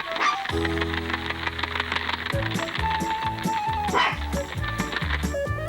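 An animated dog barks and yips in a cartoon, the short barks sitting under a loud, continuous musical score.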